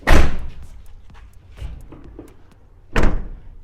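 A Mercedes-Benz Sprinter W906 van door slams shut with a loud thud, followed by quiet shuffling and a second solid slam.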